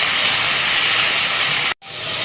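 Onion with ginger-garlic paste hits half a cup of hot oil in a cooking pot, giving a loud, close, continuous hiss that cuts off abruptly near the end, then resumes more softly.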